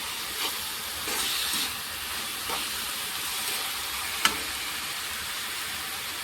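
Turmeric and spices fry in a pan, making a steady hiss and sizzle with a few faint stirring scrapes and one sharp clink. The sound stays close and even throughout, with no talking.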